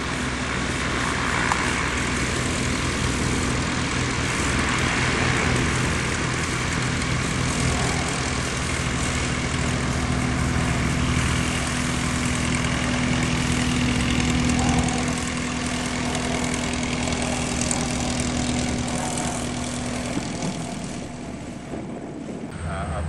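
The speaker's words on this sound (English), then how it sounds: "There's Corkey Fornoff getting ready to take off in the LoPresti Fury" A LoPresti Fury propeller plane idles before takeoff at an airshow, its engine giving a steady, loud droning rumble with a constant propeller hum that eases slightly near the end, and no talk over it.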